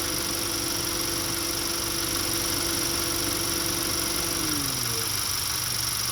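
A 2014 Honda Accord engine idles with its radiator fan running, a steady loud drone and whir that holds throughout, with a low tone dropping in pitch near the end as the fan clutch disengages and the fan slows.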